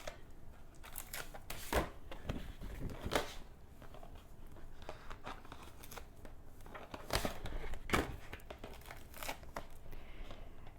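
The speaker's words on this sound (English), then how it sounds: "I'm just going to peel these away" Stickers peeled away from a cutting mat, a sequence of dry crinkling rips and crackles with several louder bursts standing out over a low, steady background. No one speaks.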